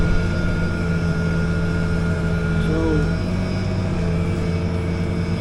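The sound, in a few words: B95 airplane's 98 horsepower engine running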